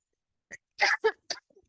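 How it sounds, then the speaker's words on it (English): A short burst of several harsh coughs in quick succession from a person getting over a cold, close and loud, with silence around them. "And I had a coughing fit on my last call, and I apparently am having another one."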